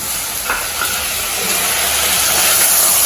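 Onion and tomato sauté in a pan with a loud, steady, close sizzle and occasional faint stirring scrapes.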